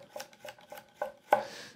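A Japanese petty knife rock-chops on a cutting board: about six quick, light taps in an uneven rhythm, close and fairly quiet, with the last stroke a little louder.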